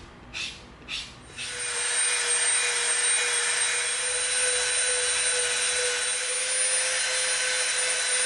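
Two short rubbing strokes of 220-grit sandpaper on an EVA foam prop rifle, then a long, steady, close hiss of continuous sanding with no voices.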